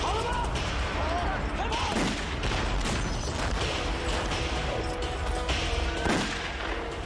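Cannon fire and battle commotion at the Great Wall of China, repeated booming blasts and bursts over a dense, noisy background with whistling sweeps, continuous and loud.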